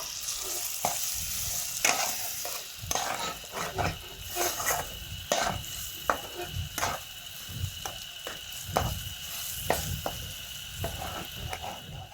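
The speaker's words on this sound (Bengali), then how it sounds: "এবার আমি এই ডালগুলোকে ভালো করে রান্না করে নেব" Moong dal stirred and cooked in a pan, a continuous sizzle broken by repeated spoon scrapes and taps at an uneven rhythm, close and fairly loud.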